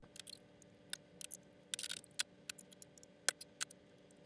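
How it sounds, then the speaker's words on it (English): Small sharp clicks and ticks come from fitting a screen bracket back onto an Infiniti Q70 dashboard and fastening it with the original bolts, irregular and close against a quiet background. "I'm going to slide the bracket over and secure it with the original bolts"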